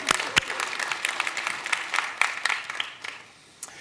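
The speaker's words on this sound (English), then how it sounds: "Please give a hearty round of applause for these leaders." Audience applause at a property open forum, a dense patter of clapping that holds steady, then thins out and fades near the end.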